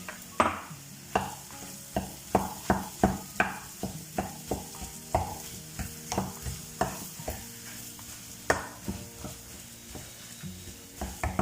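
Potatoes frying with chaat masala in a pan are stirred in quick, repeated scraping strokes over a soft continuous sizzle, close and clear with no voices.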